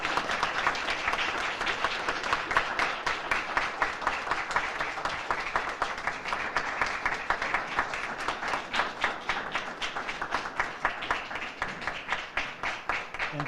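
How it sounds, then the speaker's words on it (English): Sustained audience applause at a library tribute event honoring author Ernest J. Gaines: dense, even clapping from a seated crowd that holds steady and loud throughout. "The applause is for him."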